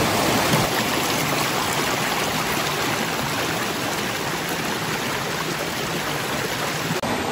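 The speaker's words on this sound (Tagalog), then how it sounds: "nakababa na tayo dito sa ilog para tawirin. So ito yung pang 25 river crossing natin" River water rushing steadily at a mountain river crossing, a loud, unbroken broadband wash of flowing current that stays close and even from start to finish, with no voices.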